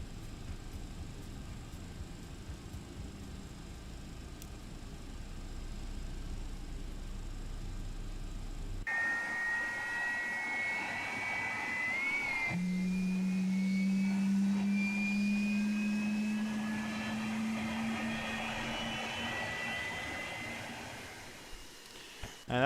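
Boeing 767 engine spooling up during start in the X-Plane 12 flight simulator: a faint steady rumble, then a sudden change to a rising whine with a low drone and climbing tones that build slowly over about fifteen seconds.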